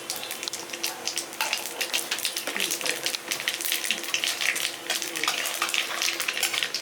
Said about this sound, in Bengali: কালো জিরে দিয়ে দিচ্ছি যে ফোড়নে